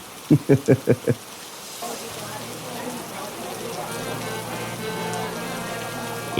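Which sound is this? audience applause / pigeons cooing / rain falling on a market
rain falling on a market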